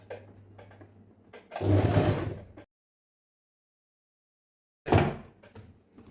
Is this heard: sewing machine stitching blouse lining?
yes